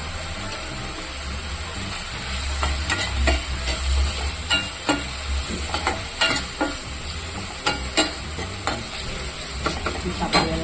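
Bitter gourd and tomatoes sautéing in a pan, a continuous loud sizzle broken by repeated clinks and scrapes of a spoon stirring against the pan, with no talking.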